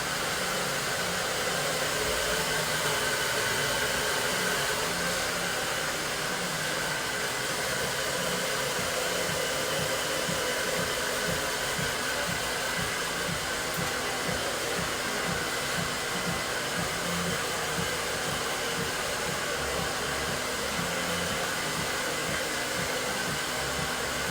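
A hair dryer blowing warm air at the roots of dark hair during a shag lob cut, a loud constant whooshing roar running steadily throughout without a break.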